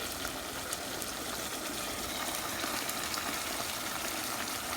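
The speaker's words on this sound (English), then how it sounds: "Now we're gonna add 1 cup of whisked yogurt to it." Whisked yogurt pours into a pan of chicken korma, giving a steady, close liquid rush that runs evenly for the whole stretch with no talk over it.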